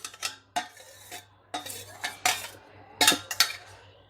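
A metal spoon stirs prawn curry masala and water in a kadhai, giving a series of sharp metallic clinks and scrapes in irregular bursts, close and fairly loud, with no talking.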